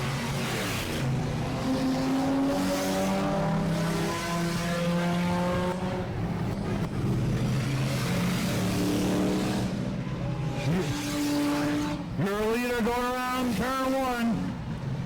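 Race car engines roar and whine past in overlapping waves during an enduro race at Auburndale, pitches rising and falling as several cars speed by, with a commentator talking over them.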